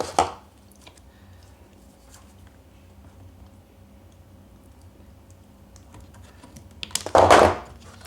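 A servo cable is cut once with a crisp, sharp snip close by in a quiet room, during electronics work on a Bruder Jeep RC conversion. A faint tap comes at the start.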